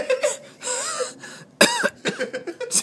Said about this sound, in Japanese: 咳が